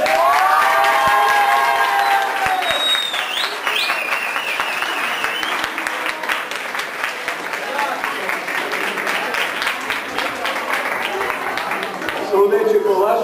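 A school audience bursts into sustained applause and cheering at a class award ceremony, with loud, dense clapping and shouts filling the whole stretch and voices mixed in throughout.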